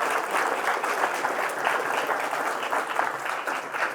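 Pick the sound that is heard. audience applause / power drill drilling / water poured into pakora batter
audience applause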